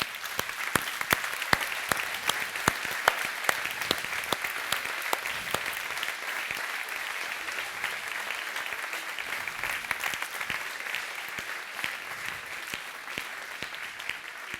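A hall audience at a March 2020 political campaign meeting in Pamiers breaks into sustained, dense applause, many hands clapping loudly and steadily for the whole stretch with no voice on top.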